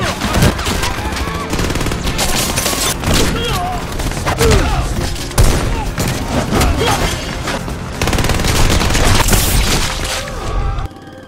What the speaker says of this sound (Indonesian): yang pada akhirnya baku tembak pun terjadi